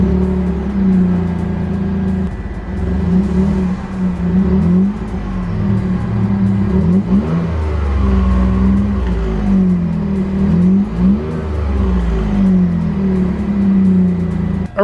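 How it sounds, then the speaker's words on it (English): A 2019 Chevrolet Colorado ZR2 pickup with a V6 revs its engine through the exhaust, throbbing and rising in several swells over a steady idle, loud and close with no talk. "I'm going to do a little bit of an exhaust rev to show you guys what it sounds like."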